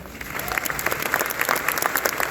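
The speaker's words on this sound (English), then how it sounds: "So definitely give yourselves a round of applause." Audience at a community documentary event breaks into lively applause, dense clapping from a room of people with some claps standing out close by, continuing steadily throughout.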